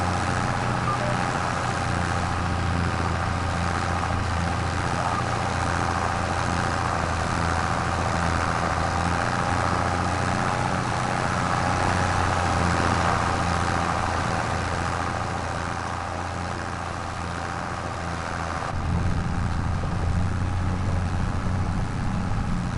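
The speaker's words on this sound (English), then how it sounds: "If I put it on the bigger tractor, would it go faster?" Tractor engine in Farming Simulator 25 running at a steady drone, loud and continuous with a brief dip in level near the end.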